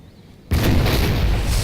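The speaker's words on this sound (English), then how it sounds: "We got the Swedish 6-pounders shooting." Swedish 6-pounder cannons fire in the Napoleon Total War video game, a sudden loud boom swelling into a sustained heavy rumble of battle noise.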